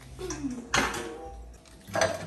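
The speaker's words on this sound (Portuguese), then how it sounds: "Lavando louça primeiro?" Dishes, pots and cutlery clatter in a kitchen sink during washing, with two sharp clanks of metal and crockery over a low background hum.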